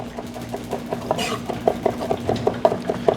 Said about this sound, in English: So we're gonna give this a really, really rough chop.